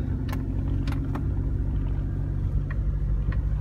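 A car rolls along on the drive home, its low engine and road rumble steady and close. Light rattles and jangles come and go over the drone.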